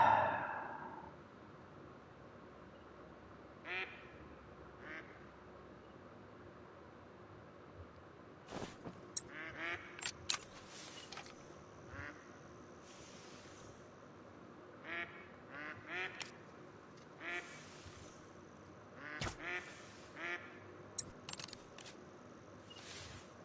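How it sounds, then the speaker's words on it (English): Ducks quack in a hunting game set outdoors, The Hunter: Call of the Wild, with scattered bursts of short calls, several in quick runs, over quiet ambient wilderness background at moderate distance. "Freaking ducks."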